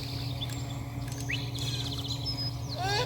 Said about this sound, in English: Don't worry about the blue jay.